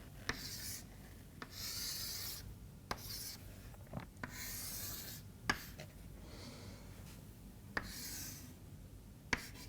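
Marker or chalk scratching and rubbing across a board while a solar cell schematic is drawn, with intermittent sharp taps between strokes, faint and close, no talking.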